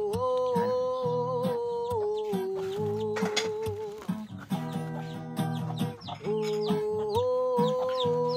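A mother hen clucks close by at feeding time, with repeated short clucks and drawn-out calls in a steady run and no talking.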